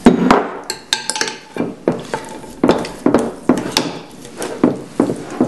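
A coconut oil dessert gets stirred in a bowl, with a string of clinking, scraping knocks from the utensil in an uneven rhythm, close and fairly loud, no talking.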